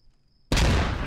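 Gunfire in the video game Squad Ops erupts abruptly after a half-second of near silence, a loud, dense burst of shots that holds steady to the end.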